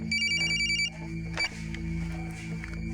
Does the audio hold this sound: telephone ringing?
yes